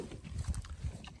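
Breeding pigs squabble over who is in charge, giving a run of low, close grunts and squeals that rise and fall in short bursts.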